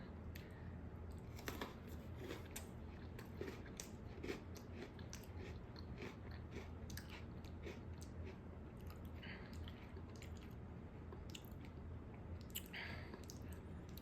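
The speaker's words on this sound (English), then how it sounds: "I'm still getting some of those sour crystals, like, still crunching between my teeth after I swallow the cookie" A Sour Patch Kids flavored Oreo cookie dipped in milk being chewed, with faint, close, moist crunching and squishing bites repeating steadily, no talking.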